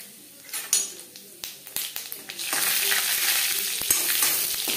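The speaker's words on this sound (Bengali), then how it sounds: "ভেজে নেওয়ার পরে অ্যাড করছি 5 ফোড়ন।" Panch phoron and dried red chillies hit hot mustard oil in a pan, a few spoon taps and clicks giving way to a loud, steady close sizzle that continues to the end.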